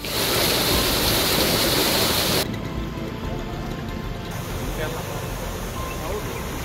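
Heavy rainwater rushes past where floodwater washed away a village bridge in Mandaluru, Davanagere district, Karnataka, a loud dense hiss that cuts abruptly partway and continues as a lower steady roar.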